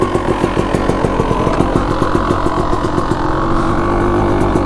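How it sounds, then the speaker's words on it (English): A motorcycle engine idling steadily after a quick repair, close and loud, with an even, regular rhythm of firing pulses throughout and no talk. "Sounding great, idling perfectly."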